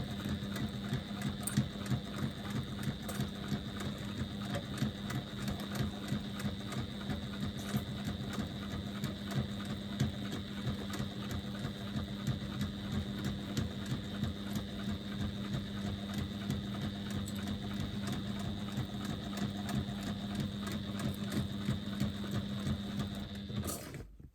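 A sewing machine stitching all the way around a lambda weave bag, with its exterior and lining layers. It gives a steady, fast mechanical whir and clatter that runs without a break and ends abruptly.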